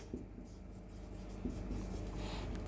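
A pen writes on paper while a physics problem about the force on a dielectric slab is worked out, giving soft faint scratching strokes close up over a low room hum, with a tiny tap at the end.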